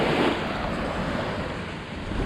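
Surf rolling onto Cosy Beach, a steady broad wash of waves mixed with wind buffeting the microphone, continuous and fairly loud with no voices.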